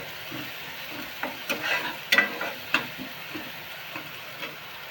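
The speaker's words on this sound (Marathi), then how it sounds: "कांदा चांगला भाजून घ्यायचा. मग मसाला टाकायचा." Onion and masala roasting in a pan for masala vangi bhaji, a quiet low sizzle with a handful of scraping stir strokes clustered in the middle, close but faint, with no talking.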